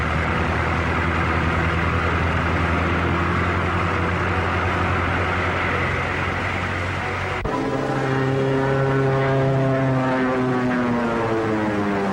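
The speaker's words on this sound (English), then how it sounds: "Biplane, two-seater, eh?" The propeller engine of a two-seater biplane drones loudly and steadily, a close, continuous hum whose pitch shifts partway through and keeps a strong tonal whine, in a 1939 film serial.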